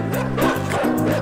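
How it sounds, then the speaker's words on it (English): A dog barks repeatedly in the video game Inside, several loud close woofs in quick bursts over a low steady game background. "Move me away from the dog."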